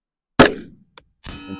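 A sharp, ringing report from a rifle shot fired through a Trijicon ACOG sight at a steel target, followed by a brief tick and then a second burst of noise with a metallic ring, heard loud and close.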